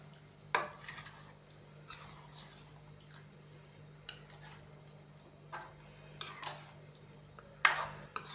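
A spoon scrapes and knocks against a cooking pot while potato curry is stirred, giving scattered soft clinks and taps at irregular intervals over a steady low hum, with no talking.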